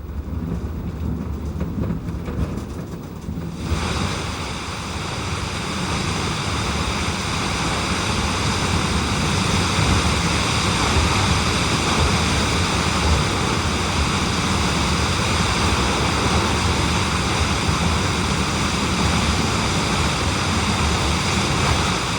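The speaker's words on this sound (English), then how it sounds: "The falls are formed where the streams of the Rosenlaui Valley cascade 100 meters down the side of the Aare Valley." A waterfall fed by streams of the Rosenlaui Valley drops 100 meters down the side of the Aare Valley, giving a loud, steady, broadband roar that swells after a few seconds and carries on without a break.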